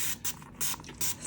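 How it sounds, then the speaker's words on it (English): Several short bursts of aerosol spray hiss in quick succession over a freshly poured resin cake, misted to keep bubbles from forming along the edge; close and fairly loud, with no talking. "I'm gonna actually spray it"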